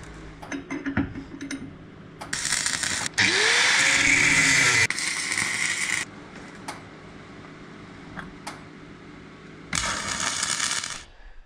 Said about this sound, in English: and then weld our pipe to that